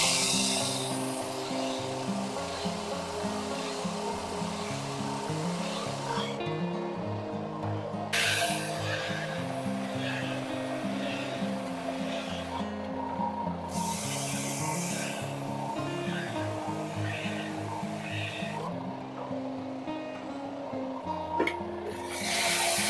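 RIDGID EB4424 oscillating edge/belt spindle sander working the rough edge of a wooden board, a steady loud abrasive rasp with motor hum, cutting in and out as the board is pressed on and pulled away several times.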